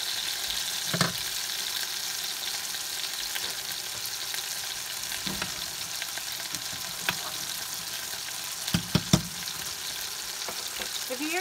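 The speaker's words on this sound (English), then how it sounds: "Potatoes. Okay. And they're frying." Potato wedges frying in a pan give off a steady, close hiss and sizzle with no pause. A few sharp taps stand out near the end.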